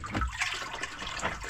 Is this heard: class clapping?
no